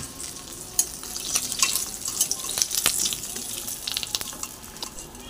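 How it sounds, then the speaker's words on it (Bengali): Foli fish fries crisp in hot oil with a bright crackling sizzle, punctuated by a few sharp pops and light clatter nearby. "এই যে দিয়ে দিলাম মাছগুলো, কড়া করে ভেজে নেব।"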